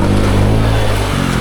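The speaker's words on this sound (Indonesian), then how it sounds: "Roda belakang terus berputar, tetapi justru semakin tenggelam." Motorcycle engine revving hard and steady at close range, its rear wheel spinning while stuck in deep mud on a palm-oil plantation track, a sustained loud drone with no talk.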